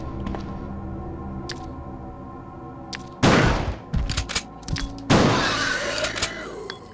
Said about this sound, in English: Good, he died in just 2 shotgun attacks